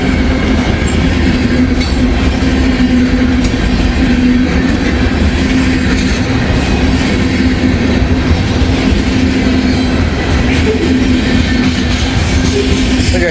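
Trains in Hamilton, Ohio pass one after another, a loud continuous rumble of railcars with rolling wheel clatter and a faint squeal, close by and unbroken throughout.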